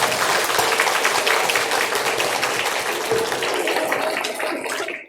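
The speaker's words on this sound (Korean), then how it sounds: "한번 박수해 주시기 바랍니다" A church congregation at a Sunday service applauds after an infant baptism, a dense, loud wash of clapping that holds steady and then tapers off at the end.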